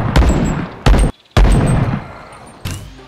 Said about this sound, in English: It's the Barrett 50 cal.